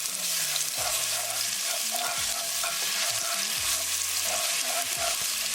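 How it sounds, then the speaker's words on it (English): Ginger, garlic and green chili paste fries in a hot pan with a loud, continuous sizzle. A spatula stirs and scrapes through it repeatedly, close up and with no voices. "Cook ginger, garlic and green chili paste for 20 seconds."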